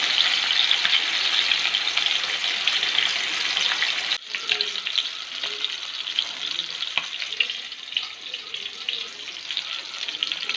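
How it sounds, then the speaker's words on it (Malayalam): Chicken pieces for Manjali biryani fry in hot oil in a steady, close, hissing sizzle, with a brief dip about a third of the way through before the bubbling crackle resumes with light stirring clatter; no voices. "രണ്ട് ബാച്ചായിട്ട് നമുക്ക് ഒന്ന് ഫ്രൈ ചെയ്തെടുക്കാം"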